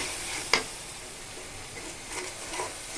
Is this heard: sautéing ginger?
yes